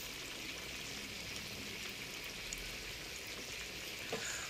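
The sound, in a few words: frying whole chicken (ingkung) in oil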